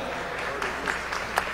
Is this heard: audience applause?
yes